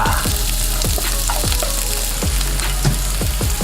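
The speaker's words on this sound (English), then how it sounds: "So in goes my onions first. I'm gonna try and get them caramelized." Onions frying in a hot pan for a Philly chicken sandwich, a loud continuous sizzle with repeated scraping stirs, close up, with no talking.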